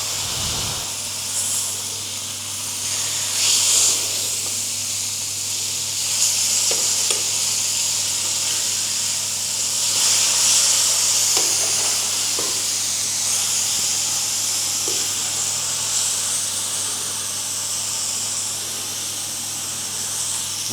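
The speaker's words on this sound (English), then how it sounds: "So because I just wet that, it's going to sizzle it." Wet chops sizzling and frying in a pan in a hostel kitchen in Budapest, a dense close crackling hiss that runs continuously with occasional sharper pops and spits.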